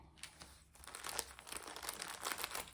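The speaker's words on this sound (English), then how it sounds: "I'm using the craft scissors." Craft scissors cutting open a package, giving crisp crinkling and snipping of packaging material in quick irregular bursts, close but quiet, with no talk.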